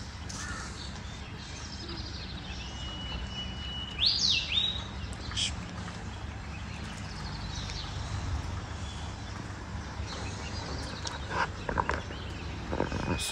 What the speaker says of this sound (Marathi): पक्ष्यांची मस्त किळबिळाट चालू आहे.